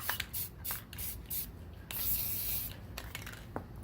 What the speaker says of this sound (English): Kind of spray it at an angle too.